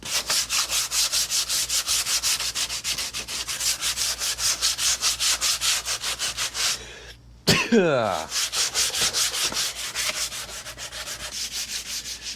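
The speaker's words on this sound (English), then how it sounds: "Just using like some 120 grit here." On the hood and fender of a 1998 Mercedes C230, 120 grit sandpaper is rubbed over the paint in fast, rhythmic back-and-forth strokes, close and loud. A short pause and a clearing throat come partway through.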